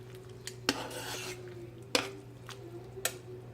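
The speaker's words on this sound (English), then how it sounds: "It's not hard to clean the inside of a CrockPot" Clinking and scraping of a utensil against the inside of a CrockPot slow cooker crock being washed with soap and water, with a few sharp clanks over a steady low hum.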